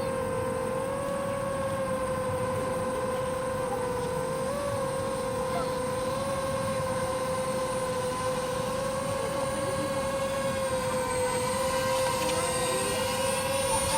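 Small 4-inch drone flying, its propellers giving a steady high whine with faint harmonics that shift slightly in pitch, continuous and fairly loud throughout.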